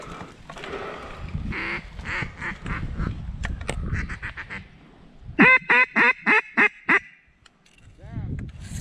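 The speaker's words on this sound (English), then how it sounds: "Big raft of teal, big raft of teal." Teal ducks quack repeatedly, with a run of six loud, evenly spaced quacks standing out amid a chorus of calls from a large flock over a marsh, with wind and rustling around them.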